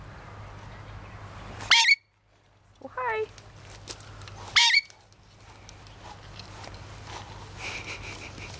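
A small bird lets out a few sharp, high squawks and a fluttering, clucking call at close range, separated by quiet pauses, while a person briefly speaks nearby.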